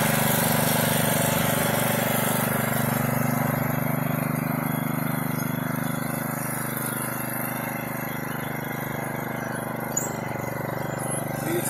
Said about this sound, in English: This will make the 100 SP the largest self-propelled compost spreader on the market today.